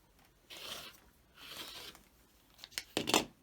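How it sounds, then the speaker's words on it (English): Fabric strip for quilting is cut in two soft slicing passes, followed by sharper crisp snips and rustling of cloth near the end. The sounds are close and fairly quiet, with no talk. "Okay, let's cut the strip."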